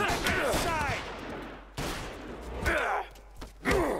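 Gunfire in the Mafia video game, a few bursts of shots spread across the stretch with game voices and groans over them, fairly loud and close.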